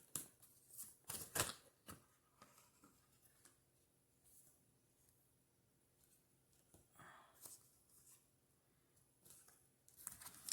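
Someone handles a Wisdom Oracle deck, with scattered soft card shuffles and slides in quick bursts, then long quiet gaps and a few faint taps, close and quiet.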